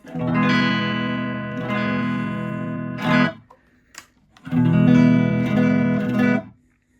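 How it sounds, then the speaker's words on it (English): A Telecaster electric guitar plays through a Fender Champ amp with a clean tone: two sustained chord phrases ring out loud and bright, separated by a short pause holding a couple of soft string noises. "today I'm playing my Telecaster through a Fender Champ, and here's my clean tone"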